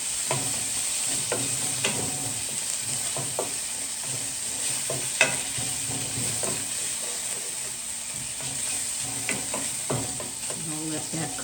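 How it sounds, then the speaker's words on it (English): Bacon frying in a pan beside pan-fried corn, a loud continuous sizzle broken by repeated scraping and clacks of stirring, close and alone with no talk. "I'm gonna stir my bacon around so that it browns."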